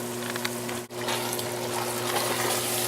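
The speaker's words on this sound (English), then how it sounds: "I'll pour some water, rinse it" Tap water runs steadily into a glass sauce jar being rinsed out in a home kitchen, a continuous close splashing rush with one brief cutoff near the start before the flow resumes.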